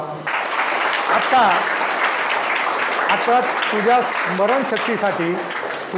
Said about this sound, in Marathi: बरोबर सांगितले, त्याच्यासाठी टाळ्या वाजवा.